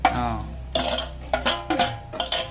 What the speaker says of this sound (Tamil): இதுக்கு இப்போ வெங்காயம் மிளகாய் போடுவோம்